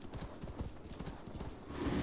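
A horse galloping in Assassin's Creed Valhalla, with rapid rhythmic hoofbeats thudding at a steady pace, moderately loud, and a faint whinny-like tone rising near the end.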